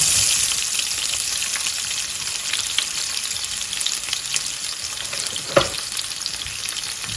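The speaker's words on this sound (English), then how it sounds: "Hot oil, sunflower oil in a pan, and I've got 2 onions that I've thinly sliced" Thinly sliced onions fry in hot sunflower oil in a pan, giving a steady, close sizzle throughout with a soft stir or clink near the end.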